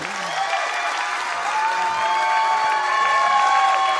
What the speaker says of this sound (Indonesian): Tepuk tangan dulu buat Adon.